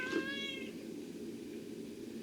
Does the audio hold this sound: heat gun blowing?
no